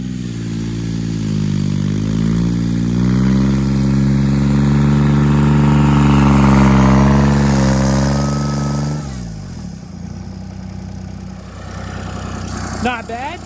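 A turbocharged John Deere 330 tractor pulls an EZ Buck sled, engine droning loud and steady with rising pitch as it strains under braking load, then cutting off abruptly, followed by quieter mechanical noise.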